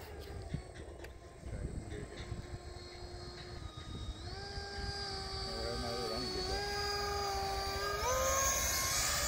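An E-flite F-16 RC model jet flies at high alpha, its electric ducted fan whining and rising steadily in pitch as it draws nearer, while people talk over it.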